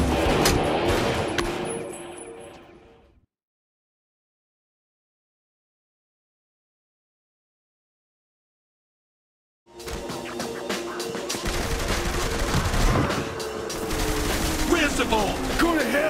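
Rapid, dense gunfire in Saints Row The Third rattles loud and close, cuts to dead silence for several seconds, then returns as sustained automatic bursts layered with mechanical clatter.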